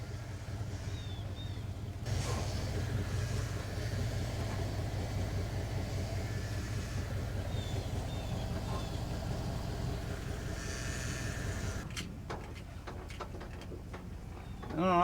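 Worn 1983 Ford F150 pickup without fenders or hood, its engine running steadily as the truck rolls, a continuous low rumble up close that changes near the end with a few clanks.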